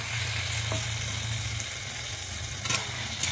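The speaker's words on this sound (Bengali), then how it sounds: "এবারে দিয়ে দিচ্ছি আমি যে ভেজে রেখেছিলাম ঝিঙে আর আলুটা, আমি দিয়ে দিচ্ছি" Fried ridge gourd and potato being stirred into a pan of poppy-seed curry, a steady low sizzle running throughout with a couple of brief scraping clinks near the end, no voices.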